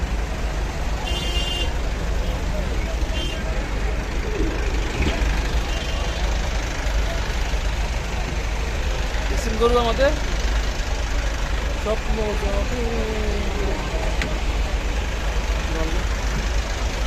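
Dense road traffic in a jam near Mohammadpur, Dhaka, heard while riding with cattle toward the Gabtoli cattle market: a steady engine rumble and road noise with short car horn toots, under someone talking nearby.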